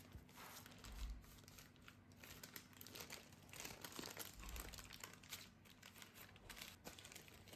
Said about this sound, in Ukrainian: тепер закручуємо цю саму бумажечку, потім пакет і в холодильник.